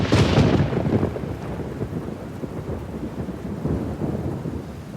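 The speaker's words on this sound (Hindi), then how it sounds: "बाहर बारिश और बिजली का शोर तेज हो जाता है।" A rumble of thunder opens, then steady rain keeps falling outside, a loud low roll fading into a continuous patter with no voices.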